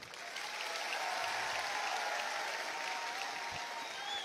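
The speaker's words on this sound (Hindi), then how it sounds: "इस चीज पे तालियां मैं चाहता हूं आपसे" A crowd claps during a Hindi-language political speech, a steady, moderately distant wash of applause lasting a few seconds with no talking over it.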